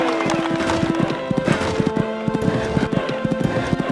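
Horse hooves clip-clop in a quick, irregular series as horse and rider go over a fence at a cross-country equestrian event, with a steady crowd or ambient hum underneath.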